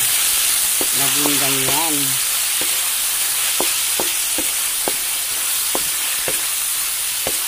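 Carrots stir-fried with garlic, onion and ginger in a pan, giving a steady close hiss of sizzling oil broken by utensil scrapes and taps, with a brief voice speaking early on.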